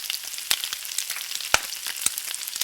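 Oil sizzles softly in a frying pan for a fried egg, with steady fine crackling and a few louder pops scattered through, fairly quiet and without talk.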